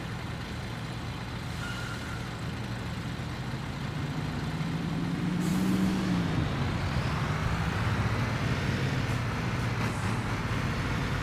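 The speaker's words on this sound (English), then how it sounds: "this is a nice truck here" A heavy truck in the Construction Simulator game, its diesel engine idling and then revving up, with a sharp hiss like an air brake release partway through and a low rumble that continues to the end, with no talk.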